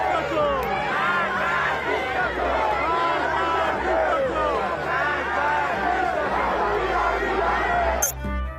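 A large protest crowd in Iran chanting slogans, a dense mass of many raised voices shouting in unison, loud and sustained throughout, with a sharp click near the end.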